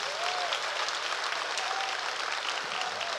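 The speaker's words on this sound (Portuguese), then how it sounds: "Você pode aplaudir o nome do Senhor Jesus?" Church congregation applauding during a Sunday morning service, sustained broad clapping from many people, loud and continuous, with faint tones and murmurs beneath it.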